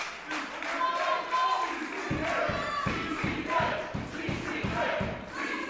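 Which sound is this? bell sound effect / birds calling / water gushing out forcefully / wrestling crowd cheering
wrestling crowd cheering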